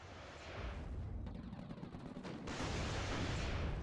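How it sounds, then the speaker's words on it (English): Panzerfaust rockets fired at an M1IP tank in the WARNO war game, amid a dense, continuous roar of battle noise with rumbling blasts and a fresh surge of explosions partway through. "we're just kind of over here shooting Panzerfaust at a M1IP"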